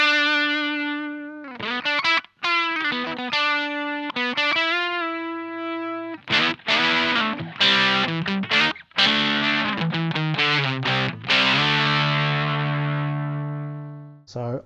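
Electric guitar on its bridge pickup through a Tym Guitars Overdriverer pedal plays bright, bold overdriven single notes and chords, loud and upfront, with sustained ringing final chord and no talking over it.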